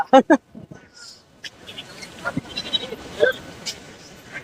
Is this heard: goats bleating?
yes